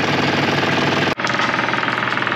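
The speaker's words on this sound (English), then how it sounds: "And now we've got the engine running" A boat's inboard engine runs while being flushed with fresh water, giving a loud, close, steady knocking chug. A brief cut breaks the sound midway, then the same rhythm resumes.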